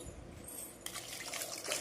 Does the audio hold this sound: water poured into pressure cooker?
yes